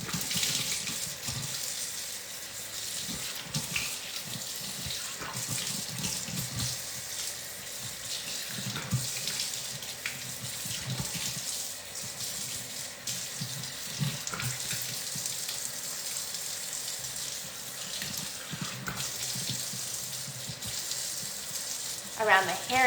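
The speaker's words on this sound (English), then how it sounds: "At the sink, you have to take a lot of splashes." A kitchen sink tap runs steadily while hair is rinsed beneath it, a continuous close rush of water with uneven splashes and spatters throughout.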